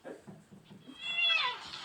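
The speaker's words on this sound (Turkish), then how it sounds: "Oğlum çıksana kedi" A cat hiding under a parked car meows once, a drawn-out, rising and falling cry heard close and fairly clear after a brief stretch of faint rustling.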